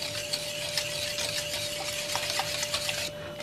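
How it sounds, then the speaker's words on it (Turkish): A spoon scrapes and swishes through thickening milk pudding in a pot on the stove, soft repeated stirring strokes over a faint steady hum, close and quiet, with no voices. "Muhallebi kıvamına gelene kadar, yani koyulaşana kadar arada karıştırarak pişirelim."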